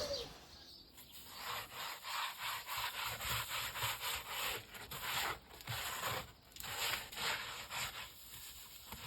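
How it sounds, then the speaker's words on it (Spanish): A damp cloth wiping and rubbing across the cooking floor of a wood-fired oven after the embers are cleared, steady rasping strokes close by, with no talking. "vamos a limpiar la parte sobre la que se va a cocinar con algún tipo de paño húmedo"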